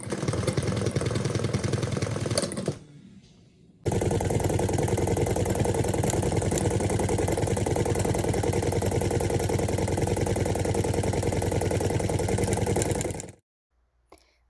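Small motor rocking a lightweight cardboard bed frame prototype held down with weights, a continuous droning hum with a brief drop midway before it resumes, then cutting out near the end.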